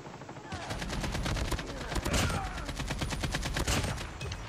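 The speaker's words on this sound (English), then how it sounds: "I actually was just shooting randomly and I got one" Automatic gunfire in Call of Duty Mobile, with rapid, evenly spaced shots that stay loud and close almost without a break for several seconds.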